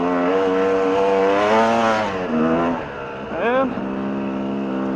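A motorcycle engine labours through deep sand, its pitch rising and dipping with throttle changes as the rider ploughs along and then picks up speed, loud and close throughout.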